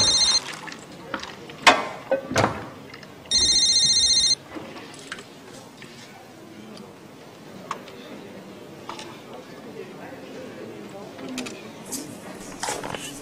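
A mobile phone left at home rings in an office setting, giving two short bursts of an electronic ringtone amid scattered clatter and a brief voice, then quieter room noise.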